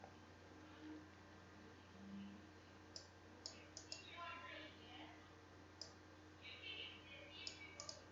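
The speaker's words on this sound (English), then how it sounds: "what is wrong with your keyboard?" A computer keyboard gives faint, scattered, irregular clicks over a steady hum in a quiet room, with short bursts of tapping spread across several seconds.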